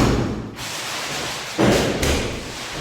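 Dull booming Diwali firecracker thuds go off outdoors, one around the middle and another soon after, over a steady wash of distant crackling noise.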